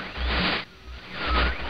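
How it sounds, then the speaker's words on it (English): A page placed into a book in the realMYST video game: two soft papery swishes about a second apart, the first longer and the second with a faint ringing shimmer, moderately loud and heard alone. "Apparently that's the sound of putting a piece of paper inside a book."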